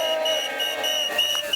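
Street protesters in Tel Aviv chant slogans together amid flares and banners, a dense crowd roar with steady rhythmic shouting filling the whole moment, a bright tonal whine riding on top.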